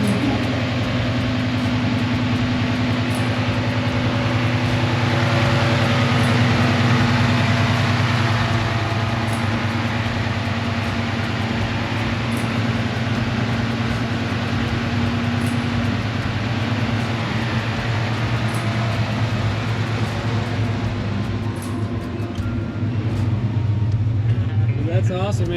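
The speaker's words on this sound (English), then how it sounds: "Let it idle down, and it gets into ghost cam." A Ford F100 truck engine idles with a ghost cam at an outdoor F100 show, giving a steady low rumble that runs the whole time. People talk over it now and then.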